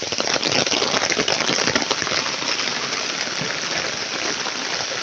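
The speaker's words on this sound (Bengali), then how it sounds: "সেই জোরে বৃষ্টি হচ্ছে" A village downpour drums loudly and steadily, with sharp close drop impacts crackling over a broad, constant hiss that eases a little after the opening seconds.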